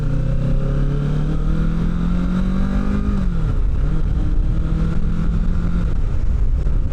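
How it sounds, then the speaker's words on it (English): A 2025 Kawasaki Ninja 650 engine rises steadily in pitch through first gear, dips briefly as it shifts into second about halfway through, then climbs again. The drone is loud and continuous, with no talking. "I wonder if you can pick up that engine specifically in first gear going up to into second"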